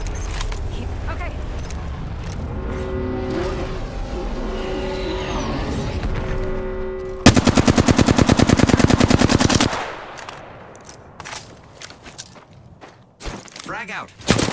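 Automatic gunfire in the video game Apex Legends, a loud fast burst of shots cutting in partway through over game ambience and engine-like noise, with scattered game effects after it.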